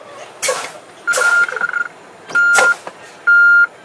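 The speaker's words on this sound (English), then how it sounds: "So at 60 PSI, the lights and alarm comes on, indicating that this test is normal." The low air pressure warning in a truck cab at 60 PSI, a loud electronic tone sounding in several separate beeps of varying length, mixed with bursts of air hiss and cab noise.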